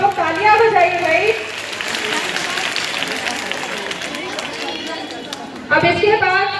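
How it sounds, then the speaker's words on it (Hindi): Audience clapping at an Independence Day prize-giving ceremony in Fatehpur, a steady burst of applause and crowd chatter filling the middle of the clip, bracketed by an announcer's voice at the start and end. "आप लोग तालियां बजाइए भाई"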